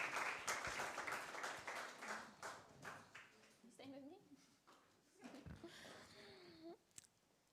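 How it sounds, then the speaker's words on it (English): A church congregation applauds in a brief burst of clapping that fades within a few seconds, followed by scattered voices, laughter and shuffling in the room. "Should we give them all a round of applause?"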